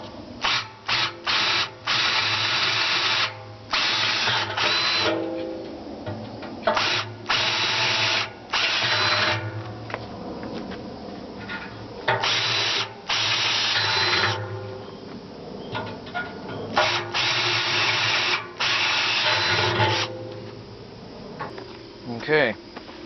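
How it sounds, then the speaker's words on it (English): Loud electric drill whining in repeated bursts while drilling larger holes in metal for a barrel stove kit, starting and stopping with short pauses between runs, close up and steady. "Now I drill the larger holes."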